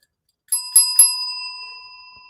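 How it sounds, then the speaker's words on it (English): Small bell rung three times in quick succession, each bright ding close and clear, ringing on and decaying into a long fading shimmer with no talk. "I got a bell. I got a bell."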